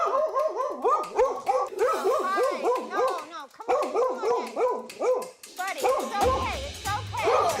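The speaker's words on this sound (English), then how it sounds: "He already knows that the dog is barking because he's afraid" A fearful dog barks rapidly and repeatedly at close range, yipping in quick bursts with brief pauses, while people talk in the background.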